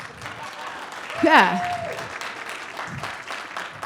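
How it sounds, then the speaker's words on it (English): A keynote lecture audience breaks into continuous applause, with one loud voice whooping partway through over the steady clapping. "you can clap for that."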